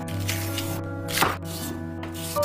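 Knife chopping vegetables finely on a cutting board in a home kitchen, a steady rapid run of close, crisp strikes over a constant background hum.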